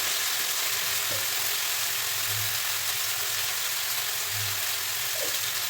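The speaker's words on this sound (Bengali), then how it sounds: "আমি এখন আলুটাকে ভেজে নিচ্ছি" Potatoes frying in a pan, a steady broadband sizzle holding at an even level throughout, with a faint low hum and occasional soft stirring beneath it.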